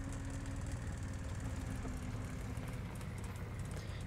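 The Breda 90/53 tank's engine runs in a steady, low, chugging drone in a video game, faint and continuous with no talk over it.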